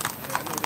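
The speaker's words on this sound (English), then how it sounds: "And you see them horses at the horses on the concrete." Quick, rhythmic clip-clop of mustang horses running on concrete, with sharp hoof strikes repeating several times in under a second, moderately loud against a noisy live background.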